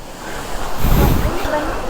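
Rushing water on Mullayanagiri hill in Karnataka churns loudly and close, a dense surf-like roar that surges in the middle and stays constant throughout, with wind buffeting the microphone.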